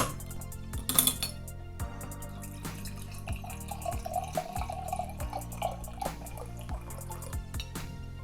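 A chilled bottle of homemade kombucha is opened and poured after 48 hours of fermenting: a sharp cap release near the start, then steady liquid splashing and trickling into a glass, fairly quiet and with no talk.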